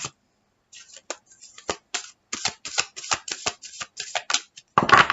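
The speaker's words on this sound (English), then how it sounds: "we'll do one last shuffle" Rapid riffling and flicking of tarot cards, several quick bursts of shuffling with short pauses between, close and crisp.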